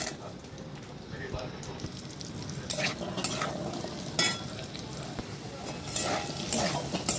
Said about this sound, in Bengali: ওই তেলে আমি আলুগুলোকেও ভেজে নেব।